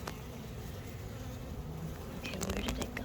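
Honey bees at a backyard hive in Salem, Indiana buzz in a steady, faint drone around a big cluster, with a few sharper clicks and taps toward the end.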